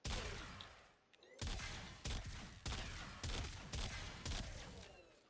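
Semi-automatic gunfire in the video game Warframe: about seven separate loud, punchy shots fired at a fairly even pace, each with a short ringing decay.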